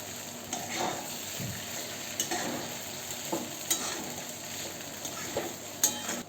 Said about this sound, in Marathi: आता हे परतूया आपण.